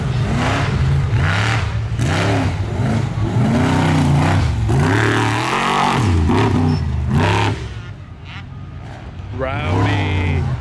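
A Polaris RS1 side-by-side at a dirt racing event revs hard, its engine note rising and falling in repeated sweeping pulls, loud and close, easing briefly before climbing again.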